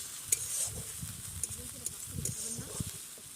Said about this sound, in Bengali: দিয়ে দিলাম জিরা আর রসুন বাটা। দিয়ে দেবো কিছুক্ষণ নেড়ে।